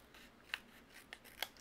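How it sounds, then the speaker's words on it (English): Scissors cut around the curved edge of a cardstock piece while making a greeting card, giving three sharp, close snips spaced apart over quiet room noise. "use your scissors and then just trim around it"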